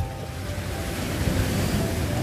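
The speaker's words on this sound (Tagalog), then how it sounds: "yung hampas ng dagat, pampatulog mo" Sea waves breaking on a shore at night, a steady, rumbling wash of surf with wind noise across the microphone, continuous and fairly close throughout.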